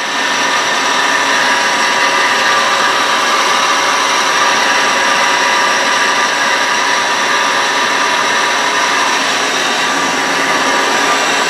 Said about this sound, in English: I have 1, 2, 3, say 4 live tools running on the turret right now.